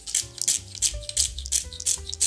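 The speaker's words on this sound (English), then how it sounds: "Going to crack some fresh black pepper in here." Fresh black pepper cracked with a hand grinder, a run of close, dry, gritty grinding bursts in a steady rhythm, alone with no talk.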